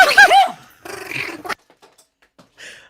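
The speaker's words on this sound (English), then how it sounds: "first day on the job as a therapy biting dog." A therapy dog at a retirement community gives a low, rough growl with whimpering yips, loud and close, before falling quiet, with a faint later sound.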